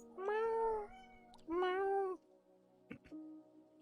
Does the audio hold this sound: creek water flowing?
no